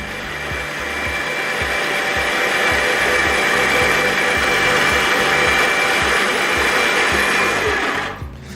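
A Pelamatic electric apple peeler runs steadily on an apple in one continuous pass, its loud, even motor whir and grinding blade lasting about eight seconds before winding down at the end, with no voices.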